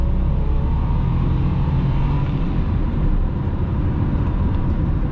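A 1996 Nissan Maxima under full-throttle acceleration, heard from inside the cabin as a steady, loud, droning engine and road roar that holds constant throughout with no talking.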